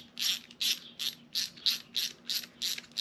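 A bolt on an H23A/F20B engine, part of timing belt work, is fastened with a hand ratchet, giving a close, even run of about eight sharp ratcheting clicks, alone.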